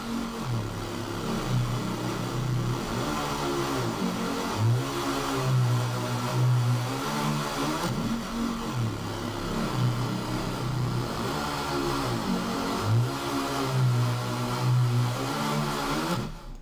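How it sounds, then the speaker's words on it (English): Saw synth bass built in FL Studio for an intro bass melody, a buzzy gliding bassline moving through repeating pitch phrases, loud and continuous under a dense bright texture, no voices. "I'm gonna start off with the actual saw at the base of the track"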